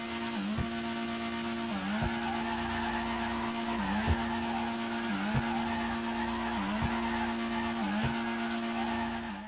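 A drifting car in GTA 5 holds a steady engine drone while its tires squeal, with the pitch dipping briefly in a regular rhythm about every second and a half, loud and continuous throughout.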